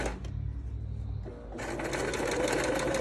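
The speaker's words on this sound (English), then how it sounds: "So we're just gonna go ahead and sew the seam down." A sewing machine stitches the seam of a fabric face mask, its motor whirring in a steady fast chatter that pauses briefly and then resumes louder and continuous.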